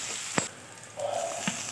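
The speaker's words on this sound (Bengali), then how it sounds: "এবার কেটে রাখা পেঁয়াজগুলো দিয়ে দিলাম।" Chopped onions hit hot oil in a kadai for a mutton curry, producing a close, even sizzle punctuated by a couple of sharp spatula knocks, with no talking.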